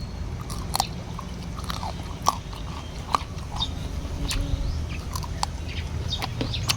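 Someone eating a Vietnamese duck egg balut up close, soft wet chewing and small crunchy bites over a low background hum, with faint bird or chicken sounds in the distance.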